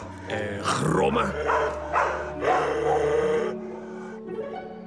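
A dog growls low and steady through most of the clip, close and fairly loud, with tonal harmonic layers and a few sharper vocal bursts over the top.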